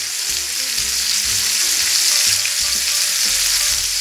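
Pork loin medallions searing in a hot pan, a loud, steady close-up sizzle and crackle with soft low knocks of stirring or shifting pieces, no talking.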